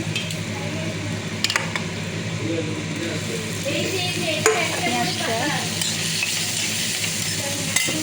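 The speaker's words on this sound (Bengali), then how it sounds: "রসুনটা আদা একটু ভাজা ভাজা হয়ে গেলে তারপরে দেবো আমি পেঁয়াজটা" Garlic and ginger sizzle in a pan with a steady crackling hiss and occasional scraping of a spoon, heard close, with a voice speaking over it.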